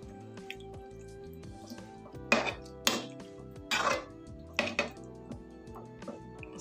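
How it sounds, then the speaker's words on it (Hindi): Water is poured and stirred into paneer gravy in a cooking pan, making a few sharp scrapes and wet sloshes in short bursts over a steady low background hum. "इसमें 1/2 कप के करीब पानी मिक्स कर देंगे"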